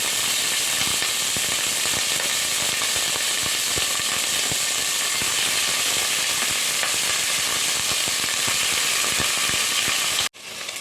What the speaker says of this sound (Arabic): اللحمة شوحت معانا كويس جدا بالشكل ده